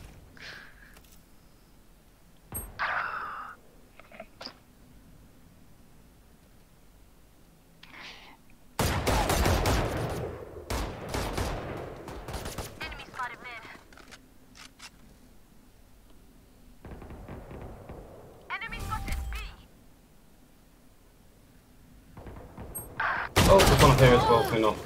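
Bursts of rapid video-game gunfire from a disliked weapon in a tactical shooter match, with scattered shots, a long loud volley midway, and a heavy closing burst separated by quieter gaps.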